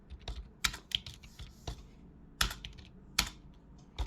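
Code being typed on a computer keyboard, with irregular clicky keystrokes coming in small clusters and a few louder, sharper key presses standing out, all close and fairly quiet.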